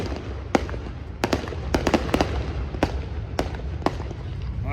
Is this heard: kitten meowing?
no